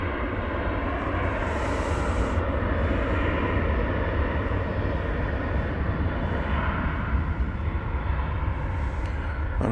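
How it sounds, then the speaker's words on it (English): A loud, sustained jet roar from an American Airlines Boeing 737-800 departing Dallas Fort Worth at night for Guadalajara, Mexico, with heavy low rumble and a constant engine drone running the full length, no voices over it. "American 2063 is this 737-800. It's off to Guadalajara, Mexico."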